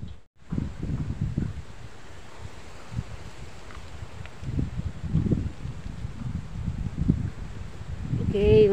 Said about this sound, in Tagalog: Ayaw huminto ng hangin.